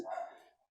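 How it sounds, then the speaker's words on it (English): A dog gives a single short bark, faint and brief, fading out quickly with no other sound around it. "Clint, is your cat's barking, bro?"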